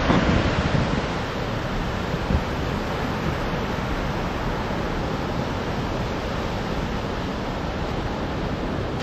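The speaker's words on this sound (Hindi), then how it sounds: "ये जो हमारे पीछे जो समंदर है ये साउथ चाइना सी है" Surf from the South China Sea breaking on Da Nang beach, Vietnam, a steady broad wash of waves with wind noise on the microphone, continuous and fairly loud throughout.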